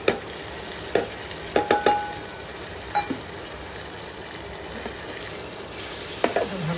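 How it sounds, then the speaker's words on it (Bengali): Chopped meat frying over a high flame with green beans, cubed onion and split green chillies, with a steady sizzle broken by occasional stirring clinks and knocks in a pan, close by and fairly quiet. "মাংসটা আমি হাই ফ্লেমে একটু ভেজে নিচ্ছি"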